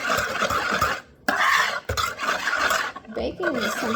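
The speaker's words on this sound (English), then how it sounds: "And mix all this up together." Cookie dough ingredients with sifted flour mixed together in a bowl, scraping and stirring strokes in irregular bursts with short pauses, close by, with someone talking over parts of it.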